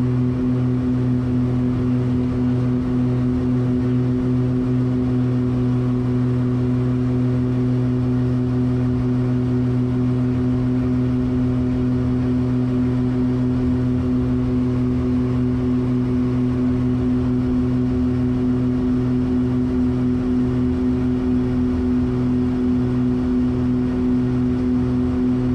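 A light aircraft engine drones steadily in a climb after takeoff, a loud constant tonal hum with an even throb throughout and no voices, while the landing gear retracts without a distinct sound.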